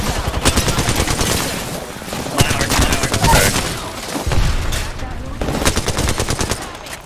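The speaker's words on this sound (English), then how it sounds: "Taking fire." Heavy gunfire fills an Apex Legends match in dense, continuous automatic bursts, loud and close, with game noise layered over it throughout.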